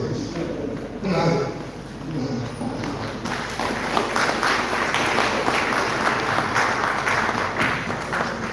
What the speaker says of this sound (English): That applause is not loud enough.